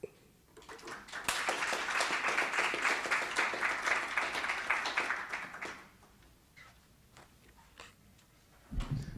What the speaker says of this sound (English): can I hear another round of applause for our counselors who are here?